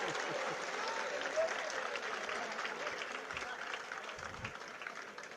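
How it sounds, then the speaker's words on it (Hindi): Audience clapping at a Jain monk's sermon, a steady sustained wash of many hands that stays fairly even throughout, with faint speech-like sounds mixed in beneath it. "आपने ताली क्यों बजवाई?"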